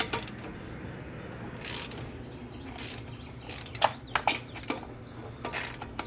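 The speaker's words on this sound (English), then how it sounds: "I'm just using kind of an extended handle ratchet here." An extended-handle ratchet clicks in quick bursts while loosening lug nuts on a 2006-2011 Hyundai Accent, close and sharp, with short pauses between runs of ratcheting.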